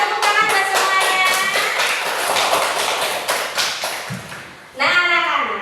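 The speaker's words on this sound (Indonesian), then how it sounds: "Oke, tepuk tangan buat semuanya." Schoolchildren in a classroom clap their hands in a loud burst of rapid, rhythmic claps that fade out before a teacher's voice comes in.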